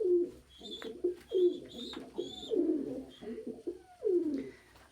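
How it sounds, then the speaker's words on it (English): A pet house pigeon coos close by in a repeated rhythm of soft, throaty rolling calls, about five phrases, with faint chirps in the background. "I mean like a house pet pigeon."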